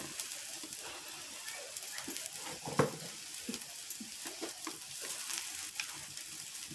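Jaggery-and-turmeric poli cooks on a griddle over a cow-dung-fired clay stove, giving a continuous soft sizzle with scattered crackles and a sharper pop midway, heard close and fairly quiet.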